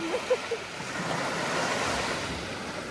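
Surf washing onto a Black Sea beach near Odesa, a steady broad roar of waves with some wind noise, a few faint low bumps at the start.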